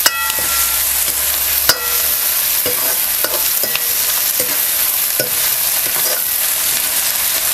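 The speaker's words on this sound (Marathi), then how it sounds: "हे सुद्धा टमॅटो आपल्याला मऊस आहे त्यांना परतून घ्यायचं" Finely chopped tomatoes with garlic are sautéed in a pan for a village-style spicy mutton sukka. A loud, close, continuous sizzle runs throughout, with sharp clinks and scrapes from stirring.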